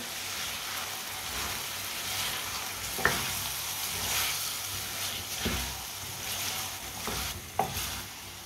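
Chopped tomato and green chillies sizzle steadily in a hot frying pan while a spoon stirs, giving a constant close frying hiss broken by a few sharp scrapes and taps, no voices.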